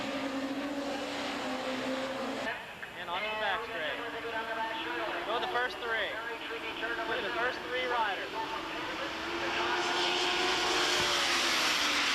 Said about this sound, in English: The 1100s scream around for the first lap and rip down the back straightaway at over 150 miles an hour